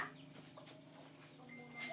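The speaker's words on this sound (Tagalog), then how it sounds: "may manok." Chickens cluck softly in the background at a simple countryside resort among farm fields in Moncada, with faint, scattered calls over a steady outdoor ambience.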